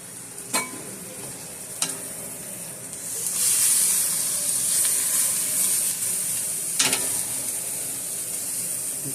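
Spinach sizzling in a pan with paprika, smoked rub and other seasonings, a soft steady hiss that swells midway, punctuated by a few sharp clinks of a utensil against the pan.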